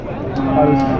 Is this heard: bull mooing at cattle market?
yes